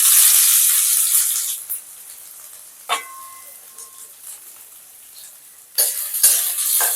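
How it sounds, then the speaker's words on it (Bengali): Soft sizzle of chopped onions frying in oil in a pan, hissing louder at the start and end, with a few clinks and scrapes in between. "পেঁয়াজগুলোকে একটু ভেজে নেব বেশি কড়া করে ভাজবো না"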